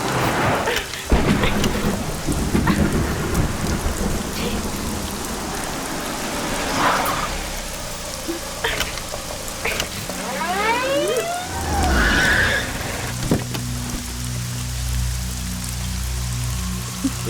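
Heavy rain pours steadily with rumbling thunder, while a siren-like wail rises and falls in the middle of the storm, loud and continuous throughout.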